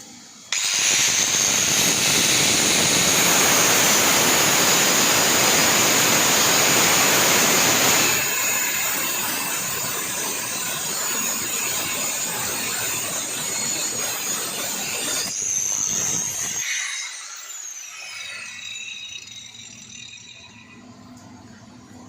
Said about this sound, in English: Blueshark cutting wheels with Blueshark angle grinder